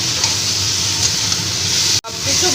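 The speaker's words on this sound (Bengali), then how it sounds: "মাছগুলোর সাথে আবার ভালো করে মশলার সাথে ওলট পালট করে একটু ভেজে নেবো" Fried fish tossed in spice masala in a pan for an amam tangra dish sizzles steadily and fairly loudly up close, with a brief dropout near the end.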